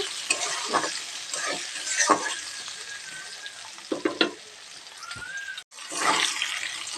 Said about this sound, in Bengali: আলুটা ভাজা হয়ে গেছে আমি এবার লাভিয়ে নেব